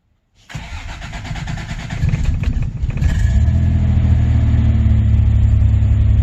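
Toyota truck engine that has sat unused for over a year cranking briefly, then catching and starting, rising into a loud, steady idle close by, with no talking.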